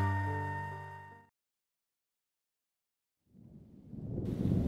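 Music stops abruptly, then after a short silence a deep, rumbling storm noise swells in and grows louder, like thunder rolling in with wind, from a pre-monsoon Nor'wester storm arriving in Nainital, India.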